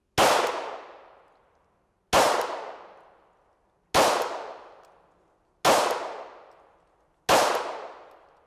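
Five loud shots from a Glock 17 Gen 4 pistol ringing off steel plates at a shooting range, each a sharp crack and metallic clang decaying away, spaced evenly about two seconds apart.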